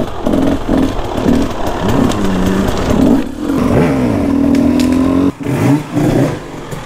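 A KTM 300 enduro dirt bike engine revs repeatedly up and down close by, loud rising and falling blips with brief idle between them, running alone without talk.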